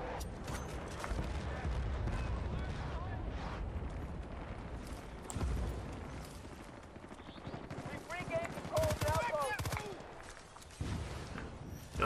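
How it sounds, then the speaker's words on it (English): Gunfire from the Battlefield: Bad Company 2 video game, with repeated shots and bursts crackling over steady combat noise while a player talks throughout. "He's shooting over there so they know where his position is."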